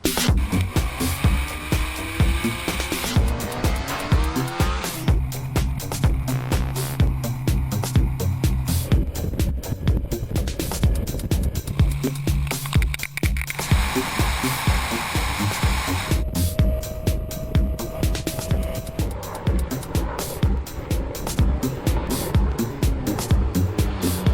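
A 2010 Honda VFR1200F motorcycle with the DCT semi-automatic transmission, ridden near Santa Barbara, gives a loud continuous engine roar mixed with wind rush, its pitch rising and falling through repeated gear changes as it accelerates.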